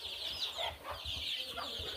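Desi country chickens, a flock of about 115, clucking together in a coop, a steady close chorus of overlapping clucks with a faint background hum.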